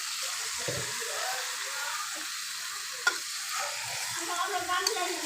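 Pieces of bata fish go into a spice paste frying in oil with black cumin seeds, and a steady, dense sizzle fills the clip with a few brief clinks of stirring.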